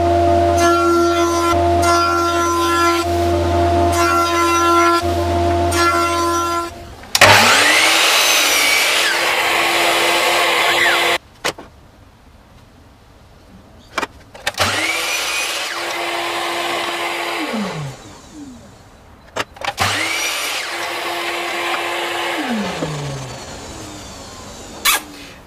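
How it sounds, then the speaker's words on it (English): A wood thicknesser planing a spotted gum hardwood mallet head: a loud motor whine with repeated bursts of cutting as the board feeds through, stopping and restarting several times across the passes. "So what I might do is just run this through the thicknesser a couple of times"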